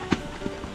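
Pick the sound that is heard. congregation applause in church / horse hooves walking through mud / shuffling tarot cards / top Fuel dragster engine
horse hooves walking through mud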